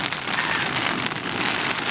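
Heavy rain pours steadily on a beach at night, a dense, even hiss of drops drumming on surfaces close by, with no voices.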